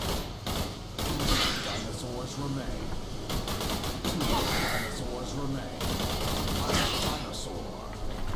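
Gunfire in the video game Orion: Dino Horde, rapid bursts of shots and thuds in uneven volleys, with a voice talking over parts of it.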